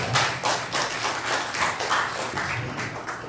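An audience in a church worship service applauds the choir, a dense steady patter of many hands clapping at close range for several seconds.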